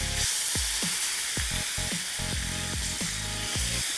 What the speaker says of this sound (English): throw it in a pan with some butter and cook them really fast